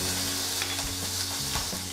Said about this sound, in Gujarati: અડધી ચમચી રાઈ નાખીશું અને તેને તતડવા દઈશું